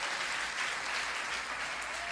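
Sustained applause from a church congregation, a dense steady wash of clapping that fills the whole moment without pause.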